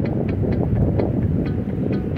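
Strong wind buffets the microphone at Praia de Lagoinha beach in Paraipaba, Ceará, a loud continuous low roar with rhythmic gusting pulses.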